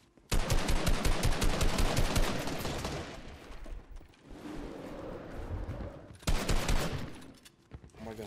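Video game gunfire comes as a long burst of rapid automatic shots, fades to a quieter rumble, then returns in a short second burst.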